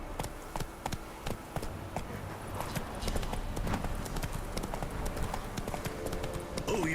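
A horse gallops in The Witcher 3, its hooves clip-clopping in a quick, steady rhythm that carries right through, loud and close, over a busy game soundscape.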